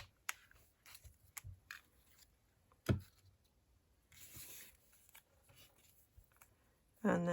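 Scissors cut a paper semicircle for a graduation mortarboard card, making a few faint, quiet snips and paper rustles spaced across a near-silent background.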